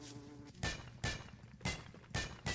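Bees buzz in the video game Don't Starve, a droning hum overlaid by four loud, regular thumping pulses roughly half a second apart, like footsteps or game effects.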